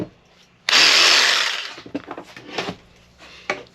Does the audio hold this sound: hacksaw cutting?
yes